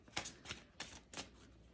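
A deck of tarot cards is shuffled up close, giving four quick, quiet rustling bursts with brief pauses between them.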